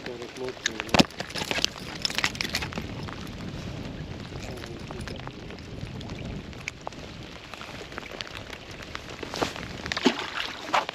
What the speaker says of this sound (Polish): Pada coraz mocniej.